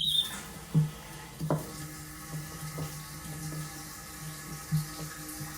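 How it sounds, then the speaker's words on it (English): Water runs steadily into a toilet tank through a new Kohler fill valve just turned on, a low continuous hiss and trickle with a few sharp clicks and knocks from the plumbing, heard close up. "And turn the water on slowly."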